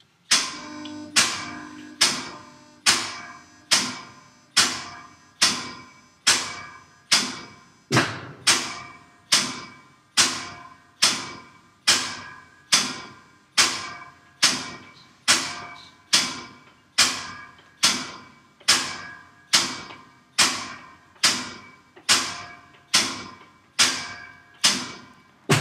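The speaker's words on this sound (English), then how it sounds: "And now we do a demag, which takes much longer." A Baugh & Weedon magnetic particle inspection bench running a long demagnetizing cycle, producing a steady series of about twenty-five identical sharp thumps with fading tails, spaced roughly one second apart, loud and close with nothing else heard.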